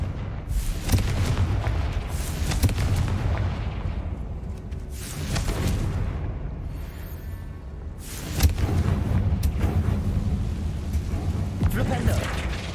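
Repeated booming spell blasts from the Confringo fire charm in Hogwarts Legacy, heavy low rumbling explosions rolling over a sustained game soundscape, with a brief lull midway before another burst.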